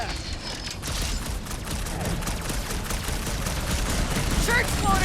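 Enemy weapons fire continuously in the Guardians of the Galaxy video game, a dense barrage of rapid energy shots and crackling bursts that persists throughout alongside action noise.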